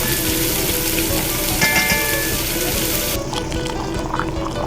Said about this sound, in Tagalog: dagdagan ko siya ng tubig